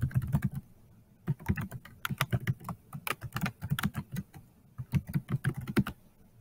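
Someone types a school email address on a computer keyboard, producing quick irregular bursts of close, crisp key clicks with short pauses between runs.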